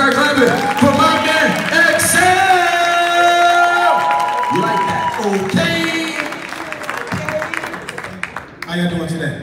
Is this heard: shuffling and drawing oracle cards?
no